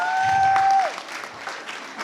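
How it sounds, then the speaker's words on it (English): An audience at a Women of Valour awards event in Paris applauding, with a brief burst of clapping that fades within about two seconds, and a sustained tone ringing over the start. "a huge round of applause for Chidi"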